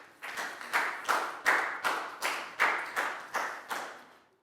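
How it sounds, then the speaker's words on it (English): A class of primary-school children claps together for a student in a Year 4 maths lesson, about ten loud, evenly spaced bursts of clapping in a steady rhythm, close by and with no talking. "Big round of applause for let go"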